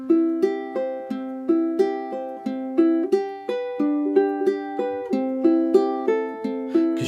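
Ukulele fingerpicking with sloppy chord changes: plucked notes in a repeating pattern, close and clear, with a brief stumble and uneven timing where the chord shifts.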